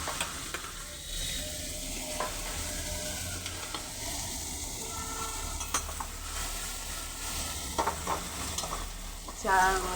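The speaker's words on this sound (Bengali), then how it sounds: "আমি কীভাবে উল্টে উল্টে মাছ কড়াই দিয়ে সারাশি দিয়ে ধরে কড়াই" Small mourola fish frying in oil in a kadai and being turned with tongs, a steady close sizzle with occasional metallic clinks and scrapes of the tongs against the pan, and no talking.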